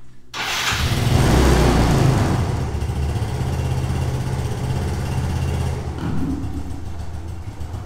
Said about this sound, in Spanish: para que vean cómo suena la Yamaha Fino